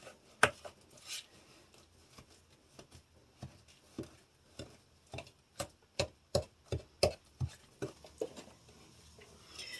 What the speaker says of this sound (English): Then you mix this all together.